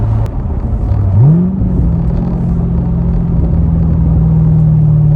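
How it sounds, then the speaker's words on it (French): A Chevrolet Corvette C7 with a 470 hp V8 rumbles deeply, rising briefly in pitch then holding a steady loud drone, heard from close by without talk. "Et le V8 là, wow, ce bruit, ça fait un boucan."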